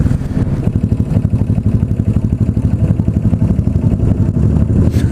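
Motorcycle engine running steadily and loud throughout a spring group ride to a motorcycle shop, a dense low rumble with rapid rhythmic firing pulses and some wind and mechanical clatter, no talking.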